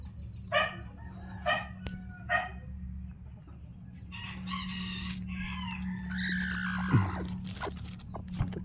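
Chicks peep in short, clear chirps a few times under a steady hum, while a rooster crows and clucks in the middle distance.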